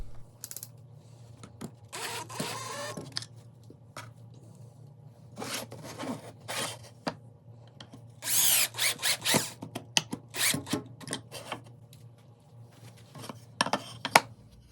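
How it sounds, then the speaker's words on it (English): A power drill drives pocket hole screws into a wooden keyhole router bit jig in short bursts of whirring and ratcheting, separated by quiet gaps with some handling noise. "we can make the joint stronger using the pocket hole screws"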